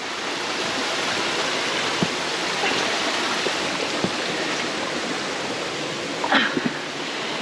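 A waterfall and stream at Tuy Hòa, Vietnam rush in a loud, steady broadband roar that fills the scene, with a couple of small knocks and no talking.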